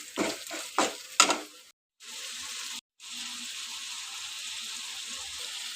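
Ponnaganti leaf curry fries in a pan, opening with a few scraping stirs that give way to a steady sizzle, briefly cut off twice before the even frying hiss resumes.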